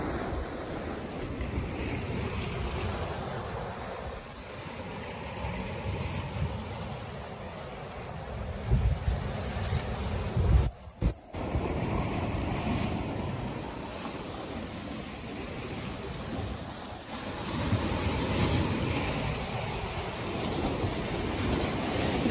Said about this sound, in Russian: Я, конечно, не думала, что будут такие волны.